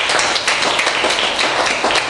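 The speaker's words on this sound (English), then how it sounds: "I would ask you to join me in a round of applause for them." An audience claps steadily at an Oktoberfest political gathering. Dense, continuous applause fills the whole stretch at an even, loud level.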